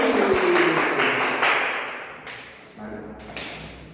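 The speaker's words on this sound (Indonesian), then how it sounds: "Tepuk tangan Desi." A classroom applauds a student: dense clapping that is loudest at the start and thins and fades over a few seconds, with a few scattered later claps and some voices underneath.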